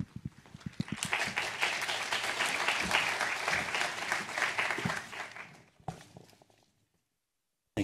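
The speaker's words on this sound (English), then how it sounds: "Let's give him a round of applause." Audience applause at an academic prize lecture ceremony, a dense burst of clapping that builds, holds for several seconds and fades, with a few scattered claps trailing off before silence.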